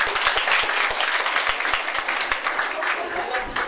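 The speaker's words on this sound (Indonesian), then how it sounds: "Tepuk tangannya dong." Students applaud at a high school student council election event, a loud, dense burst of clapping from a crowd that tapers slightly toward the end, with faint voices underneath.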